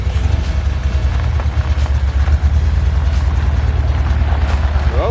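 A rebuilt car engine on its first test drive, throttle pressed while moving, gives a loud, steady low rumble with heavy vibration throughout.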